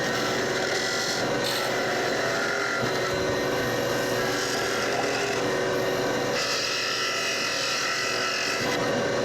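A wood lathe spins while a turning tool cuts the workpiece in a woodturning class, a continuous loud scraping rasp that swells and eases as the tool moves, with no talking.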